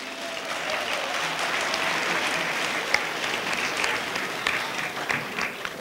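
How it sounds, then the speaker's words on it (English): A crowd claps steadily throughout, a dense continuous wash of applause with a few sharper claps and faint cheers standing out. "another round of applause for the next representative in Christchurch East, Brother Abrams."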